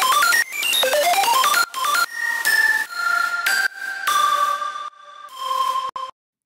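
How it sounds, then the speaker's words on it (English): A loud synth line from a track with a little reverb opens with quick rising arpeggio runs, then moves into held chords and tones with short breaks between phrases, ending abruptly. "Next, we do have a little bit of reverb, which sounds like this."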